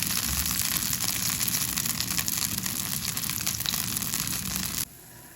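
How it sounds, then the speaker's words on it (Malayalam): Oil poured into a hot pan while making poha breakfast hisses in a steady broadband sizzle, close and fairly loud, cutting off abruptly near the end. "അതുപോലെ തന്നെ കുറച്ച് എണ്ണ ഒഴിച്ച് കൊടുക്കാം"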